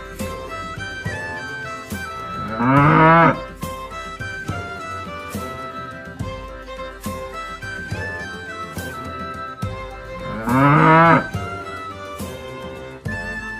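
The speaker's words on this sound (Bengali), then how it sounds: "গরু বাছুর দাঁড়িয়ে আছে" Two drawn-out cow moos, several seconds apart, ring out over a plinking musical backing.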